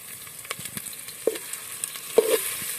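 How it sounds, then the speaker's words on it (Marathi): Oil poured over warming chopped onions for chicken biryani sizzles steadily in the pan, with light scraping and stirring clicks scattered through the sizzle and no talking. "कांदा थोडा गरम झालेला आहे आणि त्यामध्ये आता तेल टाकायचं आहे"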